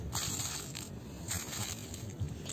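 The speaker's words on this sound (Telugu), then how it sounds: "ఇలా ఎండిపోయిన తర్వాత గలగలమంటూ ఇలా శబ్దం వస్తుంది" Sun-dried red chillies rattle and crackle as they are stirred by hand while drying in the sun, a continuous dry rustling with a few louder scraping bursts and no talk.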